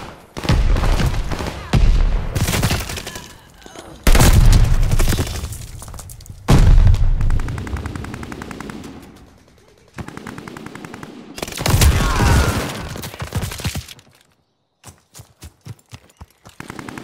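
Heavy automatic gunfire from COD Mobile, loud sustained bursts with booming impacts, broken by short pauses and ending in scattered single shots.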